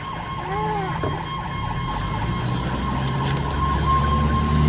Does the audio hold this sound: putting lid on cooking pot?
no